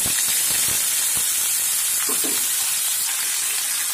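Ridge gourd and potato pieces dropped into hot oil tempered with cumin and dried chillies, a loud, steady hissing sizzle with a few soft thuds and clatters at the start, close and without talk.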